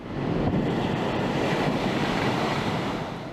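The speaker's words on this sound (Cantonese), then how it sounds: "港島杏花村捲起層層大浪，拍上去海濱長廊同燈柱差唔多高" Heavy typhoon waves crash and surge against a seafront promenade in a continuous loud roar, with wind noise mixed in and no voices.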